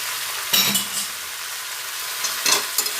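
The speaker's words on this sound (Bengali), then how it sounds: "সব দিয়ে সুন্দর করে হালকা হাতে কষিয়ে নিচ্ছি" Vegetables and fried bean seeds for a wedding-style vegetarian shukto sauté in a pan, with a soft steady sizzle and two short bursts of stirring scrapes and clinks, quiet and close, with no talking.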